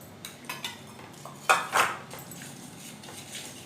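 A spoon scrapes and clinks against a small bowl while powdered sugar and water are mixed for a festival sweet, a few light taps followed by two louder metallic scrapes, close and otherwise quiet.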